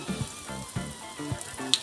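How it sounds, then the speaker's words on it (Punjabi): Brinjal slices fry in mustard oil on a tawa, giving a close, soft sizzle with small pops and crackles in short bursts. "ਹੁਣ ਅਸੀਂ ਇਹ ਵਾਲੇ ਬੈਂਗਣ ਇਹਨਾਂ ਨੂੰ ਇੱਕ ਇੱਕ ਕਰਕੇ ਅਸੀਂ ਤਵੇ ਤੇ ਪਾ ਦਾਂਗੇ ਜੀ ਇਹਨੂੰ ਅਸੀਂ ਇਸ ਤਰ੍ਹਾਂ ਹੀ ਤਵੇ ਤੇ ਫਰਾਈ ਕਰਾਂਗੇ"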